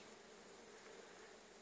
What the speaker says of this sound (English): you can hear these bees,